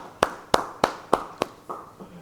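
A church congregation at a Bible study gives a round of applause for God, heard as five sharp, loud claps in a steady rhythm, then two softer trailing ones fading out.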